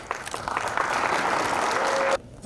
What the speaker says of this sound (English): So a round of applause again for my Indian friends